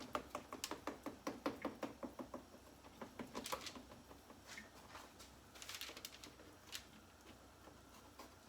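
A knife chops through spinach and feta rugelach dough on a board, a quick run of close, rhythmic taps followed by a few scattered cuts and crisp thuds.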